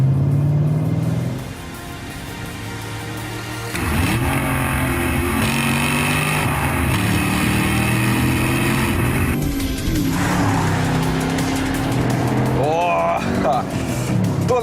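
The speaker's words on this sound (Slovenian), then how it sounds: "Sicer ne bo šlo 250 km/h, kolikor gre ta Camaro, bo pa vsaj fino rohnel." A 2013 Chevrolet Camaro with a 6.2-litre V8 roars and rumbles as it drives on coastal roads, loud and continuous with rising revs, while someone talks over the engine.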